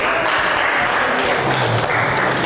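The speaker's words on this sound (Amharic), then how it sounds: "እስቲ አጨብጭቡለት ለብሩክ" A classroom of children applauds a student, a dense, steady patter of many hands clapping close by with no pause, filling the whole stretch.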